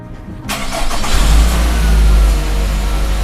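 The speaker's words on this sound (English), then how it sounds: "you should quickly attempt to start your car" A car is jump-started with an F15 smart-clamp jump starter: a sharp starter crank catches, the engine fires and then settles into a loud, steady idle up close.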